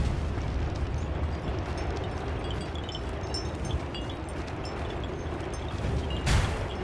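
A fire tornado in the video game Slime Rancher roars as a dense, continuous rumbling rush, loud and close, with a sharp burst near the end and no speech over it.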